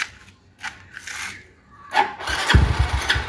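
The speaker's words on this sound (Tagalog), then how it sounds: "Hindi siya i-start kahit subukan." A Yamaha Mio i 125 scooter-motorcycle with an anti-theft mode engaged cranks without starting: a close, rough whirring starter burst that grows louder and rattles toward the end, after a few softer scrapes.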